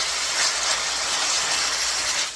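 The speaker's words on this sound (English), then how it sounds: "I can hear the sizzle start" Asparagus and scallions sizzle steadily in a pot, giving a continuous bright hiss that stays close and fairly loud throughout, with no talking over it.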